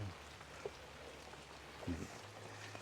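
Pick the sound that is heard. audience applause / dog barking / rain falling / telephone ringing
rain falling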